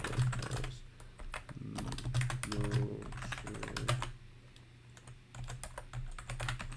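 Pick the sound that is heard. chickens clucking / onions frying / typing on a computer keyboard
typing on a computer keyboard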